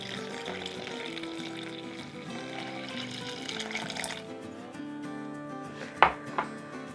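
About one and three-quarter cups of water pours into mung bean pancake (bindaetteok) batter in a steady, close stream for several seconds, then a couple of sharp clinks of a utensil against the bowl follow.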